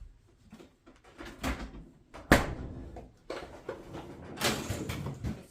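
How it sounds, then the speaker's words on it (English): Drawers and doors of a Samsung Bespoke refrigerator being pushed shut, giving a series of close thumps and clunks, with one sharp bang standing out midway and softer knocks and rattles around it. "let's go ahead and close all this stuff up"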